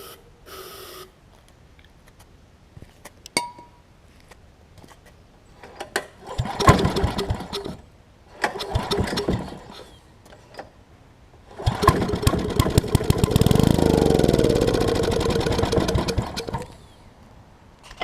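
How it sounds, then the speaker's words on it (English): A 10hp Excell generator engine being cranked over by hand in several separate bursts of churning mechanical noise, the longest run building to a louder sustained rattle near the end, with no talking. "first off I want to see if I can get it to at least turn over for us."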